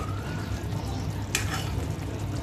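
Prawns masala stirred in a pan, a quiet continuous sizzle with one brief scraping stroke of the spoon, no voices.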